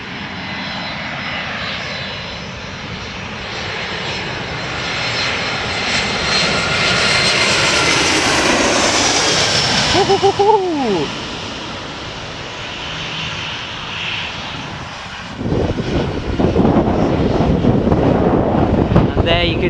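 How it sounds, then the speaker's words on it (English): A fixed-wing airliner roars close by at Nai Yang Beach in Phuket, its loud engine noise swelling and then easing over about twenty seconds, with wind buffeting the microphone and brief snatches of voices in the background. "there you can see another plane just about to get ready to take off, as that one's just landed."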